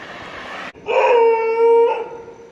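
A street dog howls in a long, loud, wavering tone lasting over a second, following a steady broad background hum, heard alone on a walk through town.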